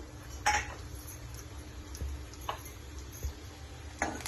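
Mustard seeds, cumin and chana dal frying in hot oil, with a soft steady hiss and sparse sharp pops and clinks now and then, fairly faint and with no talk.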